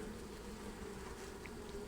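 A dense, steady hum of many honey bees buzzing together inside a hive in the evening, continuous and close, with no other sounds.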